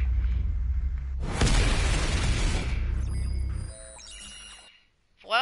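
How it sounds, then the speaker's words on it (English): A nuclear explosion in the Call of Duty Black Ops 3 video game erupts in a loud, sustained roaring boom lasting over a second, then rumbles away and gives way to quieter electronic game tones. "end a video with a nuclear explosion"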